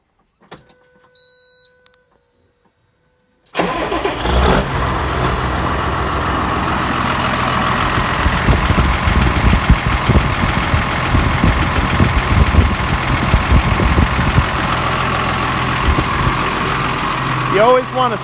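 A tractor engine after an oil change is started and left idling, a steady close rumble lasting about fifteen seconds, preceded by a couple of short beeps.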